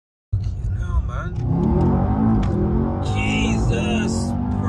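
A 700 bhp Mercedes E63 AMG twin-turbo V8 pulls hard under acceleration, a loud, sustained low engine roar that starts abruptly and holds steady, heard from inside the car with voices talking over it.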